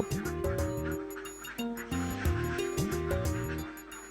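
A flock of ducks on a small village farm in an enclosed open yard quacks repeatedly in overlapping bursts, close by and steady throughout.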